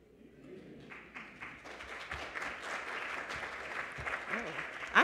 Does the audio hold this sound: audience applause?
yes